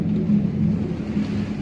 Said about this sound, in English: Good thunderstorm. Really good thunderstorm.